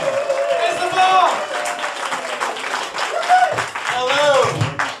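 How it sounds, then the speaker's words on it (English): A comedy-night crowd at a Swindon venue claps and cheers to welcome a comedian to the stage, with loud, close applause running under excited voices and whoops. "Give it up. Get that applause going."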